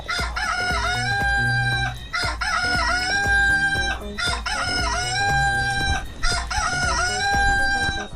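Rooster crowing loudly and close, several long drawn-out crows one after another, harmonic and ringing, with busy background sound underneath and no talking.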